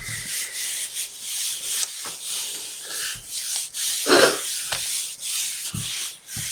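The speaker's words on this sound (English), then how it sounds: "And just give it that nice little rub." A gel plate print is rubbed by hand onto paper, giving close, steady scratchy friction strokes in quick repeated passes with soft breathing, and no talk.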